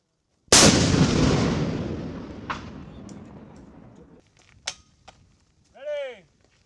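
An M3E1 MAAWS anti-armor recoilless weapon fires a single loud, sharp blast that rolls into a long fading rumble, followed by a few distant cracks and a brief whooshing sweep.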